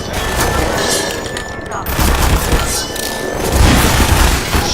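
Gunfire aimed at a helicopter in the video game Half-Life 2, with bursts of loud shots and booming blasts over continuous chopper-like noise, as a voice talks over the action.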